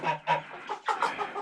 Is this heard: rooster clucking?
yes